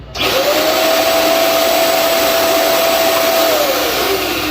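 A Kyocera AVC51H vacuum cleaner switches on almost at once and runs loud and close, a steady rushing roar with a thin constant whine that dips slightly near the end. No voices.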